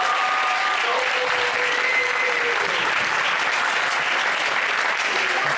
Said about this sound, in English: And please, a round of applause.